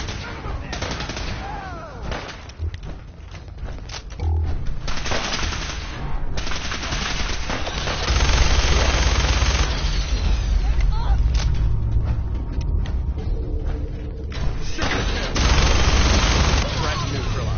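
Gunfire in the video game Fallout 4 crackles in repeated shots and automatic bursts mixed with heavy booming impacts, loud and sustained across the stretch, with voices occasionally heard over the combat.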